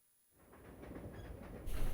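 A moving train in the video game Resident Evil Zero: a steady, rumbling rail hiss that swells in from near silence and grows louder toward the end, with no voices.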